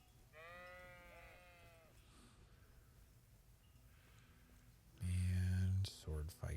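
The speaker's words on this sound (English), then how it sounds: "Sheep." A sheep in the video game Kingdom Come: Deliverance bleats a wavering cry early on, then a louder, harsher bleat and snort sound near the end, over faint background noise.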